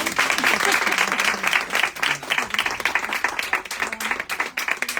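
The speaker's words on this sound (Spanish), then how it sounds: "Vamos a dar un aplauso." Audience at a literary conversation event applauds steadily and fairly loudly for about five seconds, a dense wash of clapping with a few voices mixed in.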